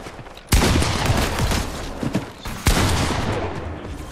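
Two sharp bursts of gunfire in Fortnite, each loud, sudden report trailing into a rattling, echoing tail, the second arriving about two seconds after the first; no one speaks.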